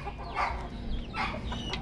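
Chickens and roosters cluck at a poultry farm in Batangas, several birds calling in short overlapping bursts at moderate distance, with no voices present.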